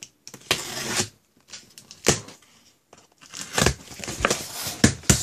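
A cardboard FedEx shipping box holding a Hot Wheels case is cut open up close, with a series of sharp tearing, scraping and crinkling bursts separated by short pauses.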